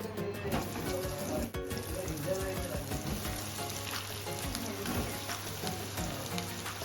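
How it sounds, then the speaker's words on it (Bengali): Potatoes fry in hot oil in a home kitchen with a steady, dense sizzle and crackle. The sound stays close and even from start to finish with no one talking. "তেলটা গরম করে নিয়েছি, এবার আলুগুলোকে হালকা ভেজে নেব"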